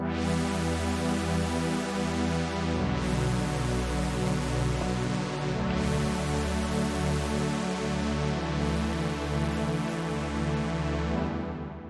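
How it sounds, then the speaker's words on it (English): A thick, buzzy detuned sawtooth synth through an analog filter in UVI Falcon, holding sustained chords that change every few seconds, with a warm filtered tone, playing alone. "It's just a detune saw with an analog filter"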